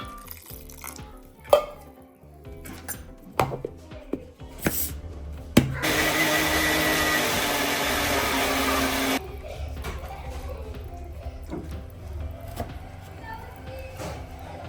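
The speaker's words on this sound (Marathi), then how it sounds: "ह्याला बारीक करून घ्यायचे मिक्सरमध्ये" A kitchen mixer grinder grinds soaked sago pearls with a little water, a loud steady whirring burst lasting a few seconds, with clatter and handling noises around it.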